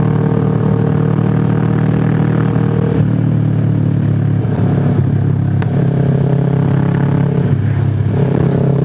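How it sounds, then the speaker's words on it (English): Road noise while riding on the open loading bed of a truck moving fast, around 100 km/h, in Indonesia: a loud constant engine drone and wind roar with occasional rattles and clatter, no talking. "transporting people at 100 kilometers an hour on the loading surface of a truck"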